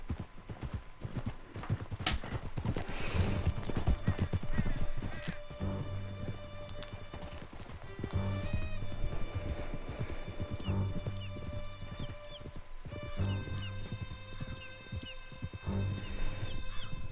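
Horse hooves clip-clopping at a gallop in Red Dead Redemption 2, a steady rhythmic pounding close by, pausing briefly and resuming, with a tonal music score running underneath.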